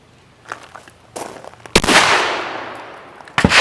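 Sharp, loud gunshots ring out at an outdoor shooting lesson, one big report followed by a long decaying echo, with a second shot at the end and a couple of lighter knocks before.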